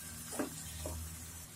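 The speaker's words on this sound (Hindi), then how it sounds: "तेल अच्छे से साइड्स में नजर आने तक हम इसे ऐसे ही भूनते रहेंगे" Masala roasting in oil in a pan for Hyderabadi egg korma gives a soft, steady sizzle, with two brief stirring scrapes standing out near the start and middle.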